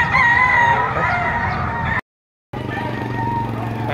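A yearling quality gamecock at a fowl market in Padre Garcia, Batangas crows loudly nearby, with a short gap mid-way, then the crowd and engine noise continue in the background.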